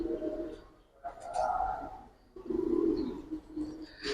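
Young pigeons in a loft coo in soft, low bursts separated by short pauses, close by and fairly quiet.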